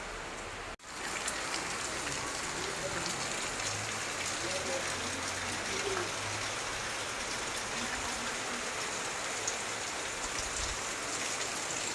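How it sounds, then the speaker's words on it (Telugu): Steady, heavy night rain pours down on a town in Kollapur, a dense continuous hiss, with faint low rumbles and indistinct voices in the background. "సోమవారం రాత్రి తొమ్మిది గంటల ప్రాంతంలో పట్టణంలో భారీ వర్షం కురుస్తున్నది"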